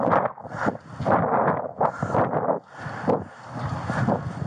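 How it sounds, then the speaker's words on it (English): Wind gusting into a microphone outdoors during a police pursuit, a loud continuous buffeting roar that surges and dips across the whole stretch with no talk over it. "And we got the wind."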